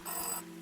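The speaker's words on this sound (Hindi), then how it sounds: "फोन रिंग हो रहा है।" A telephone rings in the video game Season: A Letter to the Future, a single short electronic trill that cuts off quickly and leaves a faint steady hum.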